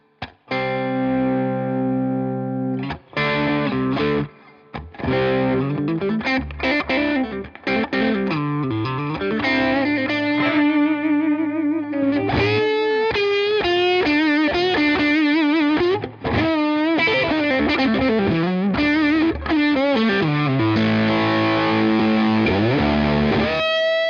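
A heavily distorted Fender American Professional Series Stratocaster plays sustained chords and melodic lines, loud and continuous, with a few brief pauses early on.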